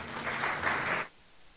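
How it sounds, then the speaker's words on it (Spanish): Brief burst of audience applause at a stock exchange investment expo seminar, a moderate crowd clapping for about a second before stopping abruptly into room quiet. "Un aplauso para él,"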